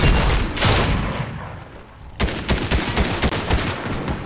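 Shotgun fire from a bot opponent in a video game, a dense run of loud booming blasts with rapid repeated reports, briefly dropping away before another heavy burst of shots continues.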